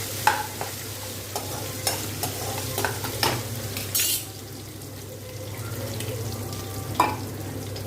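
Cashews and chana dal roasting in a pan, with a steady low sizzle and a spoon scraping and stirring in irregular strokes, close up with no talk.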